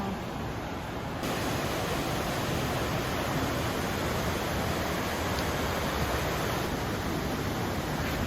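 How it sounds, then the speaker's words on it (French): A river rushing over mossy rocks outdoors near Montpellier, heard as a steady, loud broadband wash of flowing water that continues unbroken throughout with no voices. "Là, on peut entendre la rivière"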